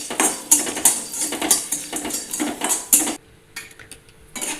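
Black cardamom, cloves and peppercorns dry-roasting with a little oil in a pan for Maharashtrian kala masala, heard as a rapid series of close, loud metallic scrapes and clinks of a utensil against the pan, fading to quieter rustling near the end.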